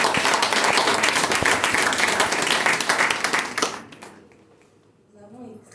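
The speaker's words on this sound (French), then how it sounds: "On l'applaudit, c'est la première." An audience at a company open day breaks into hearty applause, dense clapping filling the room for several seconds before it thins out and fades, with a voice rising faintly at the end.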